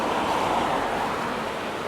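A river in Switzerland, on the road between Interlaken and Lauterbrunnen, rushes in a steady broadband roar that stays loud and even throughout with no voices.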